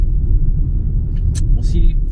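A car rolls slowly in through the gate of a wooded hiking area, heard from inside as a steady low engine and road rumble with a couple of faint clicks and rattles.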